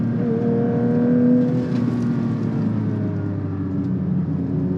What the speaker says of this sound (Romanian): Cum se aude de afară prin pădure când trece mașina asta